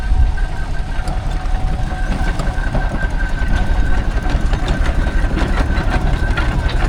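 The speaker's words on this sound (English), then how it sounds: "There's a Burrell Patent tractor." A Burrell steam traction engine passes at a steam rally in Sussex, with steady, heavy mechanical chugging and a faint whistle-like tone riding over continuous rumble, sustained throughout without talking.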